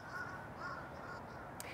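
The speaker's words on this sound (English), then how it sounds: "these crows are flying all over my head and just making a lot of noises" Crows flying overhead in an outdoor garden give several hoarse, repeated caws, fairly faint and distant, with a short sharper sound near the end.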